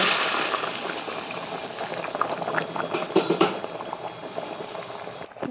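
Matar paneer curry boils in a pot with a dense, continuous bubbling and gurgling close by, steady from start to finish.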